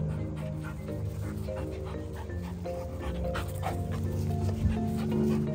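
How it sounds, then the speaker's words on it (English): A Golden Retriever puppy pants rapidly and steadily at close range, with a faint whimper near the end; no clear barking stands out. "What are you barking about?"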